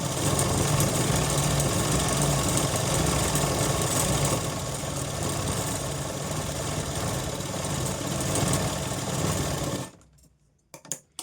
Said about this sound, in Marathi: एक साईडने आपल्याला अशा पद्धतीने अर्धा इंच शिलाई मारून घ्यायची आहे